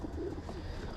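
Pigeons coo softly in a loft, a faint, low continuous murmur of bird calls with no talking.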